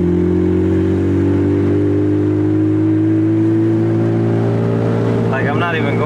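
A turbocharged Acura Integra engine hums steadily from inside the car while cruising and accelerating, a loud, even drone with a faint voice near the end.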